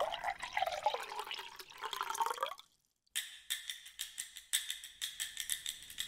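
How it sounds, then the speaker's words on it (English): Milk pours from a jug into a pocket in a children's storybook telling, first as a gurgling liquid pour, then after a brief pause as a run of quick, regular dripping taps. "So Jack poured the jug of milk into his pocket."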